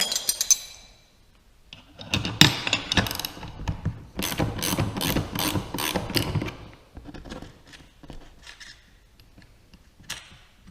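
A wrench loosens a nut on a cross-deck top-mount davit for a PWC or dinghy. A run of close metallic ratcheting clicks comes in rhythmic bursts, framed by quieter handling noise before and after, with no speech.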